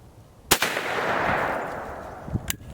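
A .410 shotgun fires a Remington squirrel load outdoors, one sharp loud blast that rolls off into a fading echo, followed by faint clicks of handling.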